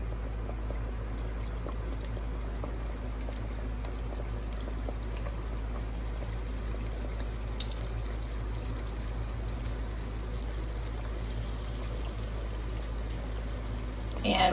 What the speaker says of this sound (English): I'm going to go ahead and take the dough, the crescent rolls that I cut, and I'm going to go ahead and put it into the grease.